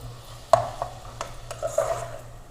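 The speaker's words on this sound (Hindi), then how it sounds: "अब इसको फिर से हम अच्छे से सौते कर लेंगे" Vegetables with a little sweet soy sauce are sautéed in a pan for white sauce pasta: irregular spatula scrapes and clinks against the pan over a soft, steady sizzle.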